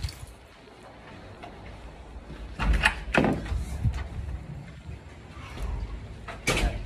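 School bus doors open and close with a few loud whooshing, clunking bursts over an idling engine's rumble, close by, with no clear talking.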